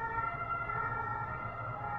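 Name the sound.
ambulance siren passing by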